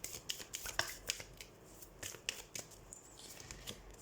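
A deck of tarot cards being shuffled, with quick papery riffles and soft flicks in irregular bursts, close and quiet, no voices.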